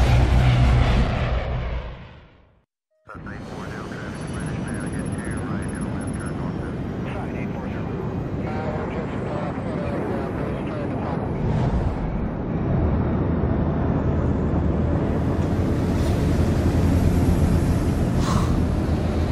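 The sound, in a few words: airplane engine hum inside a plane, Splinter Cell: Blacklist video game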